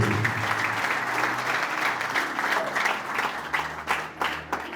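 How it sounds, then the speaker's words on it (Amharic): A church congregation applauds in a large hall, a full, steady wash of many hands clapping that thins slightly toward the end. "ለእግዚአብሔር ክብር አጨብጭቡ።"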